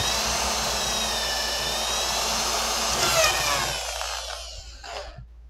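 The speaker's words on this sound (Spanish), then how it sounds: "Y ahí sostengo firme y perforo." Power drill boring a hole while mounting a TV antenna, a steady high whine held for about four seconds before cutting off, leaving a few faint clicks.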